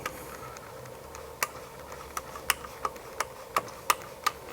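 Film advance lever of a film camera being wound, a run of small dry ratcheting ticks at an irregular, fairly quick pace, close and faint over a quiet background.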